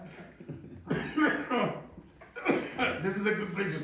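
Close, harsh coughing in several bursts, mixed with throat clearing, with no other sound around it.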